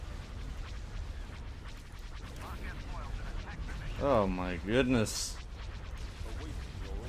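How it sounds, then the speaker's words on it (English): A large space battle in the Star Wars Thrawn's Revenge strategy game produces a continuous rumble of explosions and weapons fire, swelling midway, while a voice briefly exclaims over the din. "look at all those explosions!"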